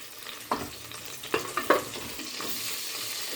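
Chopped shallots and green chillies sauté in a hot pan, a soft steady sizzle broken by a few sharp scraping stirs near the start, then settling into a continuous low frying hiss.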